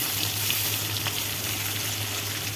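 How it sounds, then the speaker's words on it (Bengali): Potato pieces fried in salt in a pan for a Bengali silver cup fish dish, a steady close-up hiss and crackle of hot oil that continues evenly throughout with no talking. "আলুটা একটু লাল লাল করে ভাজবো"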